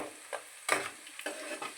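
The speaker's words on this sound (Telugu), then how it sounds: "కరివేపాకు, బాగా వేపుకోవాలి బ్రౌన్ కలర్ వచ్చినట్టు." Curry leaves fry in hot oil for a chicken fry, with a few short bursts of sizzle and stirring scrapes coming in quick, uneven pulses, close and fairly quiet with no talk.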